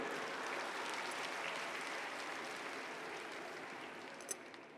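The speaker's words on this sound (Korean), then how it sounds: "동의하시는 분 박수." An audience claps together in agreement at a Korean sermon, a steady broadband patter of many hands that holds evenly for about five seconds and tapers slightly at the end, with no talking over it.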